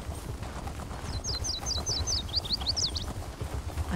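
Horse hooves clip-clop steadily on the ground while a mount is ridden in The Elder Scrolls Online, under a low rumbling bed, with a run of bright bird chirps overhead.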